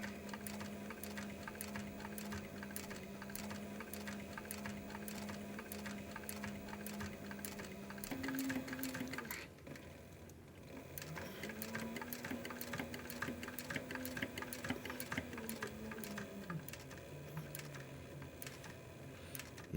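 A sewing machine stitches an interior pocket for a pair of leather chaps, running in a steady continuous whir with a brief pause midway before starting up again and carrying on through to the end.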